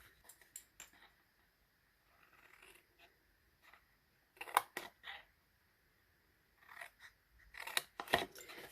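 Paper snips cutting paper for a faceted ornament craft, with short crisp snipping bursts in clusters separated by quiet pauses, close and fairly soft.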